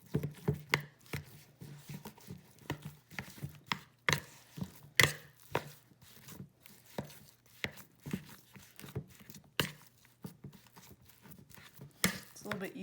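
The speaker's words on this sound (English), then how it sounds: "I'm gonna go ahead and use my spoon for this part. Just kind of mix it all together." A spoon mixes homemade play dough in a bowl, making irregular sharp knocks and thuds that come in uneven bursts up close, with a person talking at times.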